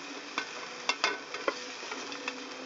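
Onions frying in a pan and being turned a few times, giving soft, steady sizzling with several brief scraping and stirring knocks, fairly quiet and with no voices.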